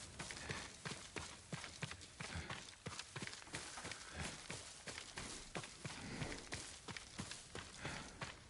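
Horse hooves clip-clopping in the video game Ghost of Tsushima, a rapid, steady run of close, loud hoofbeats continuing throughout with no talk.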